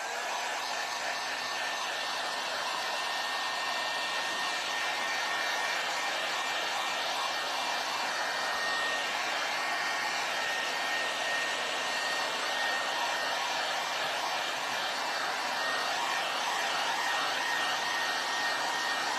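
A hair dryer blows steadily on craft pieces, a continuous close whooshing hum that stays at even loudness throughout with no talk.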